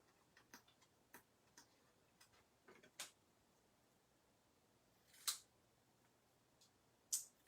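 Craft snips trim a stamped paper piece: a scattering of faint, crisp snips and clicks, irregular and spaced apart, with a few louder cuts near the end and quiet between them.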